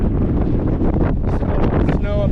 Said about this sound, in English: The wind is fucking whipping.